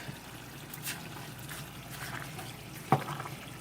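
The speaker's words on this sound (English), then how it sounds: "That's 1 more cup of water." Water is poured into a pot of simmering beans on the stove, a faint, thin trickle and splash with a small clink near the end.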